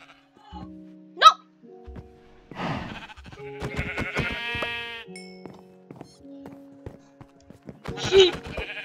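Sheep bleating in the video game Minecraft, a string of loud, close, quavering bleats in bursts with quiet gaps, over light game sounds and occasional talking.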